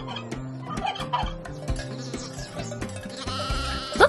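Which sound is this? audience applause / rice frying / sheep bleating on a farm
sheep bleating on a farm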